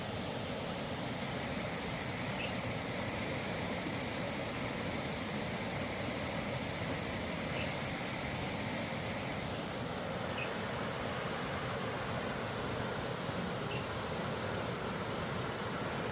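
A river flowing through a bamboo forest near Masinagudi gives a constant, even rushing hiss of moving water. It stays unchanged throughout, moderately quiet, with no voices.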